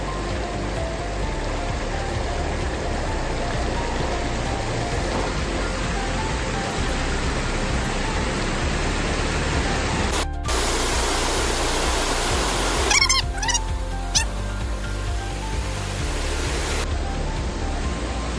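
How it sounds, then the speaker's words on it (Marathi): A village waterfall pours in a constant, broadband rushing roar, close and loud, steady for the whole stretch, with a few brief clicks and bumps partway through. "तुम्ही धबधबा बघितला असेल."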